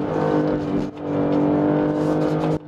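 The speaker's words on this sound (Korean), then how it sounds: "서서히 스로틀 가져가면서 탈출 가속" BMW X3 M40i engine accelerating out of a corner on a track, a loud steady rising drone with a strong tonal growl, briefly dipping once as the throttle eases, then pulling hard until a sudden drop.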